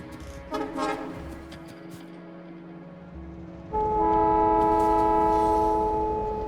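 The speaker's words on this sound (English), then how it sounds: "And there goes one train." In the Factorio video game, a train moves with a low rumble, then a loud, sustained, multi-tone horn-like drone starts partway through and carries to the end.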